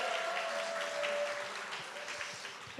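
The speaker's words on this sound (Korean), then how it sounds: "우리 하늘이 떠나가는 박수로 모시겠습니다" A church congregation applauds to welcome the senior pastor, broad sustained clapping that fills the room and fades slightly toward the end.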